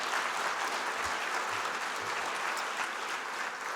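A conference audience at a Better Buildings summit plenary applauds goal achievers with dense, steady clapping that fills the room at an even level from start to finish.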